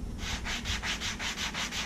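Sandpaper of roughly 120 to 200 grit rubs along the edges of a piece by hand, about nine even back-and-forth strokes in a quick steady rhythm, close and fairly soft with no talking.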